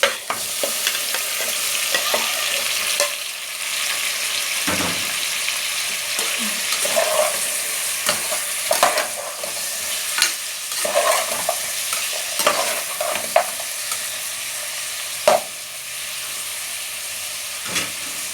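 Beef sizzles and is stirred in a pan with garlic for kaldereta, giving a steady close frying hiss broken by repeated spatula scrapes and knocks against the pan.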